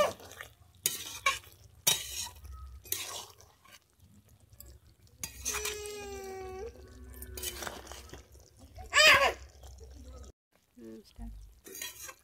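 A spoon scrapes and stirs bottle gourd kofta curry with ghee in a pan, with intermittent clinks and scrapes against the metal amid quiet kitchen sounds.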